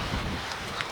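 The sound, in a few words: wind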